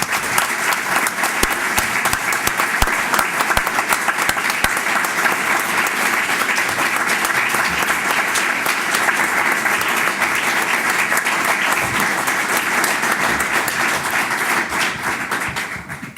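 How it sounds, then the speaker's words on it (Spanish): Strong, sustained applause at a library naming ceremony honouring an electoral tribunal magistrate, a dense wash of many hands clapping at an even level throughout. "un fuerte aplauso, por favor"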